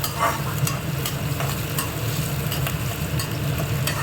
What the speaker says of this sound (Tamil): இந்த கருணைக்கிழங்க போட்டு ஒரு வதக்கிட்டோம்